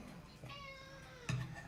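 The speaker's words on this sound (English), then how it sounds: "There we have the cat making some strange noises." A cat meows twice, a drawn-out quavering call followed by a short, sharper meow, fairly faint and close with no talking.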